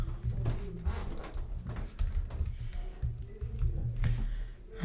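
Rapid tapping on a computer keyboard, a close run of soft irregular clicks and keystrokes over a low background hum.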